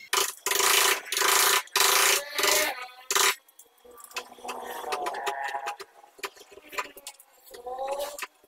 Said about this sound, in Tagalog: So ngayon, pait lang muna tayo at martilyo.